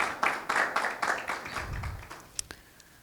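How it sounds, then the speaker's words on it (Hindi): Congregation clapping during church worship, a run of steady rhythmic claps that thins into a few scattered louder taps near the end, moderately close with no talking. "खुदावंद की तारीफ में तालियों के साथ खुदावंद को वेलकम कहते हैं"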